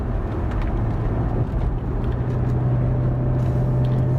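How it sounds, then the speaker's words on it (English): A Jaguar XJ-R's supercharged V8 drones at a steady, deep throb from inside the car while driving, with a faint thin whine riding above it. The sound stays loud and continuous, with no talking. "That's the sound, that throb of that V8, and the slight whine of the supercharger, just fantastic."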